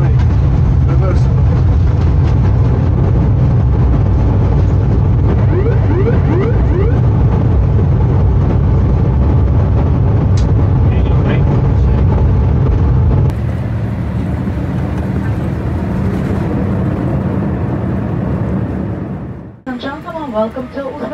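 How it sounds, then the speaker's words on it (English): A loud, constant engine roar fills the cabin as an Uzbekistan Airways jet rolls out after touchdown in Uzbekistan with reverse thrust and speed brakes, easing off near the end. "Roll out. On the brake, speed brake. Reverse."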